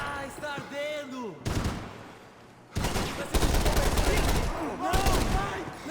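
Heavy gunfire in the video game Max Payne 3 comes in separate loud volleys between stretches of frantic voices, with automatic bursts crowding the second half.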